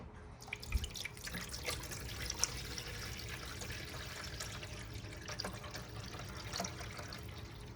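Cool water poured into an AeroGarden reservoir, a faint, steady trickling and splashing with a few drips, close by and with no talking.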